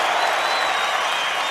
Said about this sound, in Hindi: एक बार जी आशीर्वाद में इनके लिए भी जोरदार तालियां चाहूंगा जी मैं